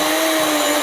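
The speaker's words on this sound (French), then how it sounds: "on allume notre blender pour gagner un peu de place" A blender whirring for a short burst, loud and close, running vegetables and water together for gazpacho, with no talking.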